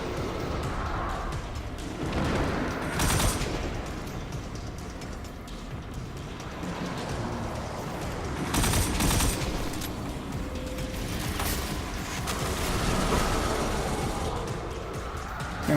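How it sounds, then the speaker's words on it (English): Void fire from an ogre in the game Destiny 2, a constant roar of energy blasts and impacts with louder bursts around three and nine seconds, dense and loud throughout. "dodging that void fire coming from"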